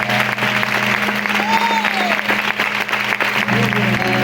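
A church congregation claps together in strong, sustained applause, loud and dense throughout with no voices rising above it, while a faint tone glides briefly in the middle.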